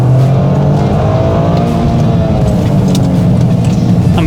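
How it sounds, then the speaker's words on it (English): Inside a Toyota GR Corolla or Honda Civic Type R being driven hard, the engine and turbo drone loudly and continuously, the engine note rising and shifting as it accelerates through the drive. "It's just the interior sounds coming through from the turbo and from the motor."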